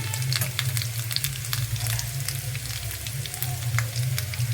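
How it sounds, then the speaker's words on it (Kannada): Roasted ground spice powders, including pepper powder, sizzle in hot oil for chicken fried rice, a steady close frying hiss with scattered crackles and pops over a low background hum, with no talking. "ನಾನೆಲ್ಲ ಮಸಾಲನೂ ಹುರಿದೇನೆ ಪೌಡ್ರ್ ಮಾಡಿ ಇಟ್ಕೊಂಡಿದ್ದು, ಅದಕ್ಕೇ ಎಣ್ಣೆಗೆ ಹಾಕ್ತಿದ್ದೀನಿ"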